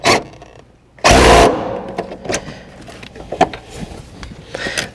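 Short loud burst of a power impact gun driving a seat belt bolt in a 2016 Subaru Forester, roughly half a second of harsh whirring followed by quieter clicks and handling noises nearby.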